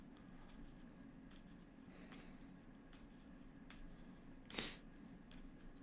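Mythos cards from the Cthulhu: Death May Die board game being shuffled: faint papery rustles and short scrapes, with one sharper, louder riffle near the end.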